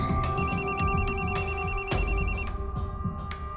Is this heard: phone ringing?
yes